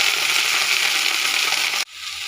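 Leafy greens sizzle hard in hot mustard oil with garlic and green chilli, a loud, dense, steady hiss close up that cuts off sharply near the end, leaving a quieter background.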